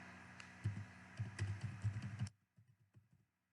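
Close, quiet keystrokes on a computer keyboard as a short phrase is typed into a search box, with rapid clicks for about two seconds followed by a few softer taps.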